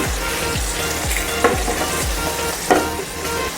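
Onions fry in a pan beside already-fried potatoes, with a continuous sizzle broken by a handful of soft rhythmic stirring thumps, close and fairly loud.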